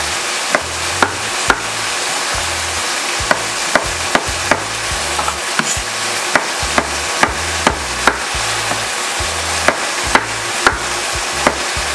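A knife slices garlic on a cutting board, giving sharp, regular taps, about one or two per second, close and clear over a steady sizzling background as lemongrass chicken cooks.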